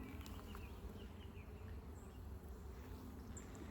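Honey bees buzzing around an open resource hive during an inspection, a steady, dense, low drone close by and alone, with no voices.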